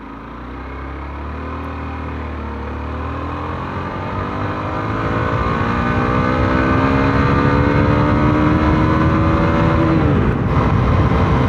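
A 2023 Hero Xpulse 200 4V BS6 motorcycle engine runs at a low idle, then revs up with a steadily rising, buzzy note that grows louder before dropping sharply near the end.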